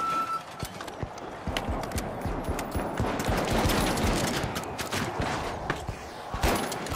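Gunfire in the first-person shooter The Finals: rapid clusters of sharp shots and impacts, dense and fairly close, mixed with footsteps and movement noise through a busy fight.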